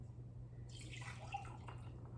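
Water drains and drips out of a mystery box, a faint, soft trickle that swells slightly partway through and stays quiet and close.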